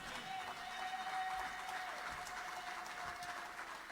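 A church congregation applauds the Lord, a steady wash of dense clapping throughout, with a faint background tone running beneath it.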